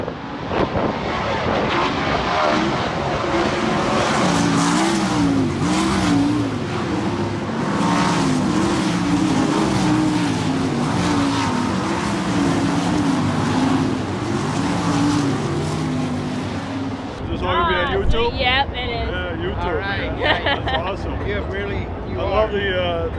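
Race cars roar loudly on the Las Vegas Motor Speedway dirt track, a sustained engine drone with passing swells for about seventeen seconds before the roar drops away to quieter, fainter engine noise.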